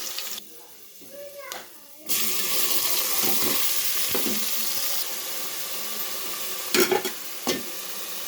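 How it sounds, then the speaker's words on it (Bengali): Garlic dropped into hot oil, a quiet opening with faint sounds, then a sudden loud steady sizzle of frying, with a couple of sharp knocks of a utensil near the end. "প্রথমে তেল ডালিলাম তারপরে রসুন দিলাম"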